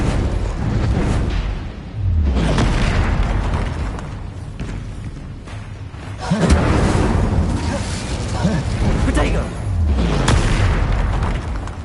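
Repeated fire spells cast in the video game Hogwarts Legacy: heavy booming bursts land every few seconds over dense, rumbling combat noise, with a voice speaking in places.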